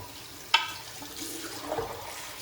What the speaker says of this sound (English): Washing the bowl out here.